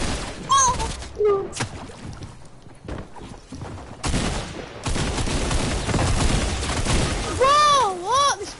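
Shotguns fire repeatedly in a Call of Duty match, with sharp blasts and clusters of shots among whooshing game effects, some loud and close, others dropping back between bursts.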